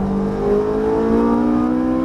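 A Ferrari 458 Italia accelerates on a race track, its engine note rising steadily in pitch as it pulls hard, loud and close throughout.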